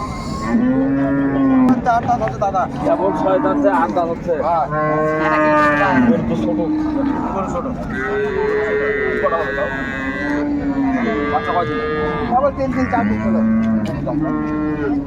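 Several dairy cows moo repeatedly at a cattle market in Raniganj, Dinajpur, long drawn-out lowing calls overlapping from different animals nearby, with a busy crowd murmuring underneath throughout.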